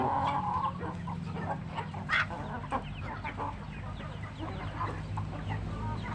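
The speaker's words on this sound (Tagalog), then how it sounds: "araw-araw po tayo nagpapakain ng ating mga manok" Chickens cluck and chatter in a busy, close group while being fed leaves, over a steady farmyard background, with a few sharper squawks standing out.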